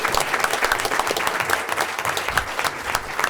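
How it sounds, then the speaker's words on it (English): An audience at a Board of Education meeting applauds a senior, Morgan Irwin, with steady, dense clapping from many hands throughout, fairly loud and close. "So let's give her a round of applause."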